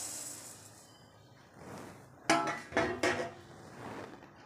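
Raw rice stirred and dry-roasted in a wide pan, with a few sharp scraping clatters of a spoon against the metal around the middle, then softer stirring and a faint background hiss.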